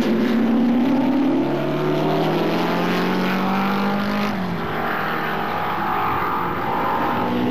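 Repco Brabham race car engine at speed, a steady sustained drone with rising and falling pitch sweeps, loud and continuous throughout with no talk.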